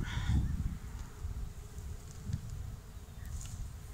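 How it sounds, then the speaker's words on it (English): Swarm of bees buzzing around branches in a front yard, a soft, continuous drone with scattered closer passes, faint and outdoors. "Save the bees! Save the bees!"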